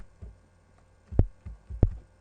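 Punchy electronic kick drum layered with a deep 40 Hz sine sub, several booming thumps in an uneven pattern, with two hits clearly stronger than the softer ones in between.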